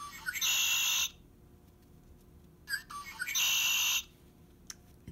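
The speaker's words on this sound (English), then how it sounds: "It's a red-winged blackbird." A red-winged blackbird call plays as two loud, bright bursts, each about a second long and separated by a short quiet gap, with no voices.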